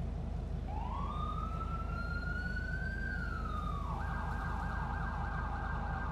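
Police cruiser siren wailing as the car pulls away code 3, a long rising and falling wail that switches to a rapid yelp, loud and continuous over a steady rumble of traffic.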